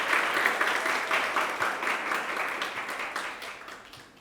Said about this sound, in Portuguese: Então, eu gostaria uma salva de palmas ao educativo e todas as pessoas que estão aqui.